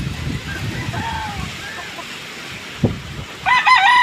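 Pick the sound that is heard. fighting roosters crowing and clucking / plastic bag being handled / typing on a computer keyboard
fighting roosters crowing and clucking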